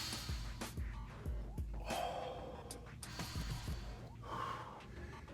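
Deep, rhythmic breathing during a martial arts class warm-up, several loud inhales and exhales with gasp-like and snort-like breaths repeating steadily at close range, with no talking.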